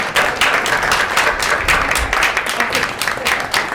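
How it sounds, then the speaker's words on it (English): Audience applauding at an indoor gathering, a continuous dense clatter of many hands clapping, loud and near, with voices faintly mixed in. "Another round of applause."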